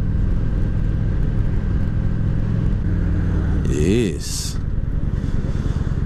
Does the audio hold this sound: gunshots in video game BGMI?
no